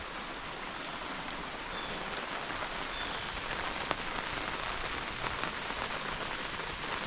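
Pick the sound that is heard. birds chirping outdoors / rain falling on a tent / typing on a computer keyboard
rain falling on a tent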